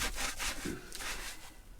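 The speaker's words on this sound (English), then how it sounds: "So now I'm going to go in and scrub just a little bit harder now, especially down here," A brush with cleaner scrubs the suede of UGG boots in quick back-and-forth strokes. The close, steady rasping has a sawing rhythm and no talk over it.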